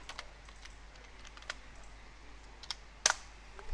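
Soft keystrokes tap on a computer keyboard in a quiet room, a sparse irregular run of clicks with one sharper clack near the end.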